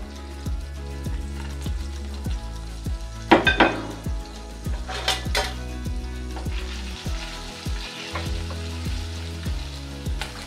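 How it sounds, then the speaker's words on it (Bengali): Chopped garlic hits hot melted ghee in a pan, giving a steady, close sizzle broken by occasional clinks and scrapes of a utensil against metal. "এই পর্যায়ে রসুন কুচিটা দিয়ে দেব।"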